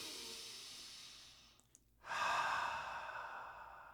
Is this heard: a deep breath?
yes